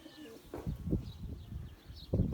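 Pigeons coo softly in a loft, with low, faint, murmuring calls repeating in short bursts.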